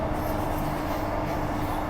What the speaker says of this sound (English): Now, unfortunately, we're zooming through Perth Stadium. We're not stopping this time.